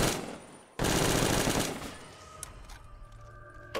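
Rapid automatic gunfire from a first-person video game, a loud dense burst of continuous shots that cuts in abruptly and tails off, followed by a few scattered clicks and weapon sounds; no talking.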